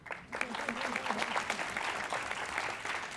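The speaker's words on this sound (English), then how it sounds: "round of applause for our team." Audience applause for a team at a national personal finance competition, a broad even clatter of many hands, fairly soft and distant, sustained throughout with faint voices mixed in.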